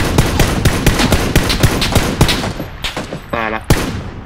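Rapid bursts of gunfire from the video game PUBG as a player shoots out car tires, loud and continuous shot after shot, easing off near the end with a brief voice and a final crack.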